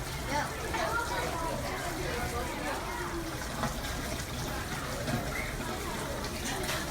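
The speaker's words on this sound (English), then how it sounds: "here's this little water fountain area, which is a lot of fun. The water comes down in a dome shape" A small dome-shaped water fountain play area at Disney's Animal Kingdom in the Asia section, a steady splashing trickle of water heard under constant talk and outdoor crowd noise.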